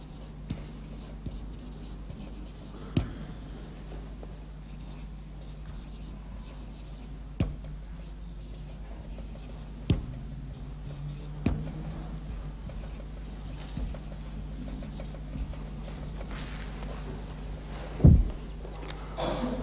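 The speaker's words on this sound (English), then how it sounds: "I'll write it up." Chalk or marker strokes on a board during a church sermon, faint scratching with a few sharp taps spread across a quiet room, no talk over it.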